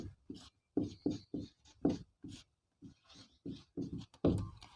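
Pen or chalk writing down the given values of a thermodynamics chemistry problem, a series of short scratchy strokes in uneven bursts with brief pauses, close and fairly quiet, no talking.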